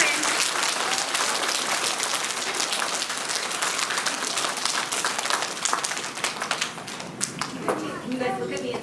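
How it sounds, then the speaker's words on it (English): Students and families clap for classmates at a school awards assembly, a sustained crowd applause that thins slightly toward the end, with scattered claps and voices murmuring underneath. "can everybody give them a round of applause for all our friends?"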